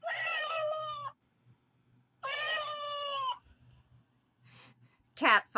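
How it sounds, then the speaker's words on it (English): Two clear, loud electronic cat meows from a toy noise maker, each about a second long with a pause between them, followed by fainter scraps and a short chirp at the end. "meow,"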